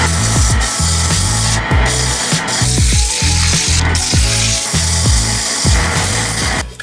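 Sanding a freshly turned segmented wooden bowl, a loud, close, steady rasping hiss with repeated rhythmic strokes and no talking.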